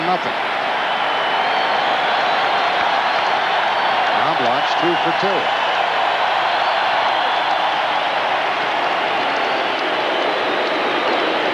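Dense, steady stadium crowd roar at the 1991 World Series Game 1 between the Atlanta Braves and Minnesota Twins in Minnesota, a continuous loud wash of cheering and noise under a commentator's brief remark.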